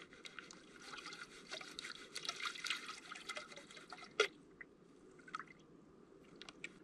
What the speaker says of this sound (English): I'm going to pan this down and see what is in it for gold.